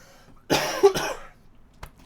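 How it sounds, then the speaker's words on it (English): A harsh, phlegmy smoker's cough, two or three rough bursts close up, then a small throat catch. "Smoker's cough"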